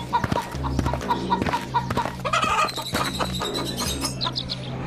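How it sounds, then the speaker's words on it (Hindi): Chickens cluck repeatedly nearby, with short chirpy calls and some rustling, a busy barnyard sound with no talking. "रत्नू अपने बेटों को मुर्गियां देकर घर से रवाना कर देता है"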